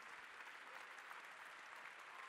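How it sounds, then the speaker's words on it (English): Audience applause at the closing fireside chat of the Fifteen Seconds Festival 2017 conference, a steady, dense wash of clapping from a large crowd that fills the whole stretch with no talk over it. "Give another round of applause to all of them."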